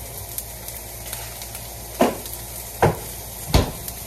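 Breakfast sizzles in a hot pan with a steady fizzing bed, broken by three sharp pops of spattering grease near the end, heard close with no talking.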